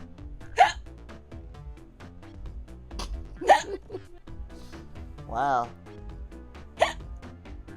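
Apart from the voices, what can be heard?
hiccups in a video game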